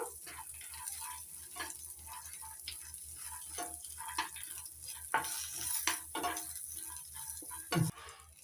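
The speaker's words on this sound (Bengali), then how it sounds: "পুদিনা পাতা হালকা করে ভেজে নেব" Mint leaves frying lightly in a pan on low flame while making South Indian coconut chutney, a steady soft sizzle under repeated scraping stirs with a spoon and occasional ticking clinks.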